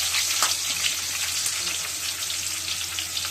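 Onions fry in hot oil, about four teaspoons, in a pan, producing a dense, continuous, close sizzle that stays steady throughout.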